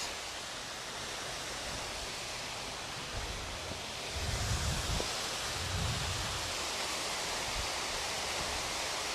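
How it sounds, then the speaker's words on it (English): Wadsworth Falls waterfall in a state park, rushing in a broad, steady roar that stays constant throughout, with a few low thumps partway through. "That is Wadsworth Falls."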